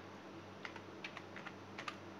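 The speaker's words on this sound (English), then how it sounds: "by typing the keyword" Several quick, light keystrokes on a computer keyboard, tapping in short irregular bursts against a faint steady hum, with no voices.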